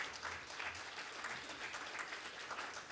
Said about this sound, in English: I don't have to say anything, and there's already applause, Rajat.